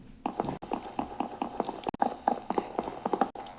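A computer mouse clicks repeatedly during a Minecraft session, a string of sharp, close, fairly loud clicks in uneven quick bursts with brief pauses, heard alone without talk.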